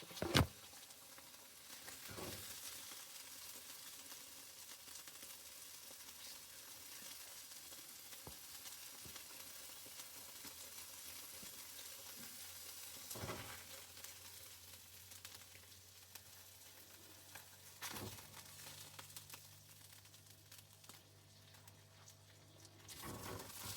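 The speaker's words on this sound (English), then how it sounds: "Got the sausage cooking." Sausage fries in a pan for breakfast with a faint, steady sizzle, broken by a few soft clicks and stirring bumps.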